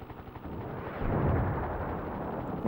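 Explosion in the helicopter combat game Desert Strike: Return to the Gulf, a deep rumbling blast that swells about a second in and rolls on to the end, loud and low-pitched.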